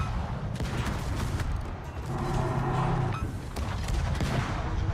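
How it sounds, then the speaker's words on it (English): Naval gunfire from the Kyiv destroyer in World of Warships, with dense rapid salvos and booming shots overlapping continuously for several seconds, loud and close with a steady battle rumble underneath. "They changed the gun sounds on the Kyiv"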